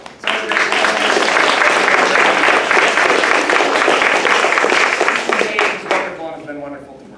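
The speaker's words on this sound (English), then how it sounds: "Big round of applause to 171 for being such a wonderful place to work." Sustained audience applause at a summer theater show, dense clapping from a crowd that holds steady for several seconds before tapering off near the end, with some voices mixed in.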